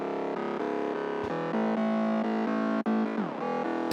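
A distorted mid bass synth patch with a bright, buzzy tone plays a sequence of sustained notes that shift pitch in steps, with one brief pitch slide, loud and continuous with no talk.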